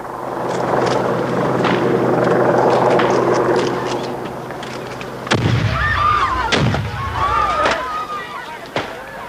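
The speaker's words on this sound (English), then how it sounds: "The explosions came without warning." Heavy rumbling grenade blasts and sharp bangs ring out amid a noisy crowd at Milltown Cemetery in 1988, followed by shouting and screams with further sharp cracks.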